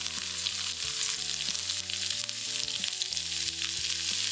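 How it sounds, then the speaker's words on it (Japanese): German potatoes pan-frying in butter give off a steady, close, dense sizzle that crackles without pause and holds an even loudness throughout. "バターでじっくり炒めると"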